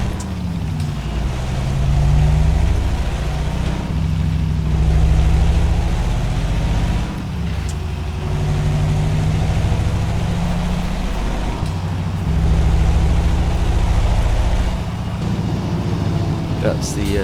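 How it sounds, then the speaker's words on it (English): Exhaust brake of a Magirus Deutz 19/22D truck in Euro Truck Simulator 2: a loud, deep, continuous engine drone with rising and falling harmonic swells, close and steady throughout. "That's the Jake brake,"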